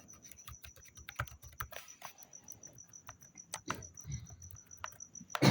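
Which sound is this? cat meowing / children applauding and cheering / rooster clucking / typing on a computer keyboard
typing on a computer keyboard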